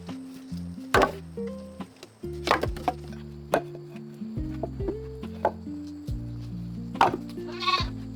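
A recovering goat bleats repeatedly at close range while foraging for fresh leaves, amid sharp knocks and thuds from nearby woodwork on a bed frame.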